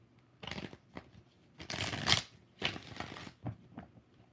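A deck of tarot cards is shuffled close up, giving several soft riffling bursts of papery flutter and slapping, separated by short pauses, with no talking.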